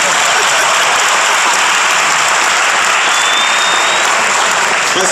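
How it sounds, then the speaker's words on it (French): Dense, loud applause from a crowd at the JCertif technology event following a French-speaking research and innovation minister's speech, continuous and unbroken throughout, with a faint murmur of voices mixed in. "Je crois que vous allez applaudir."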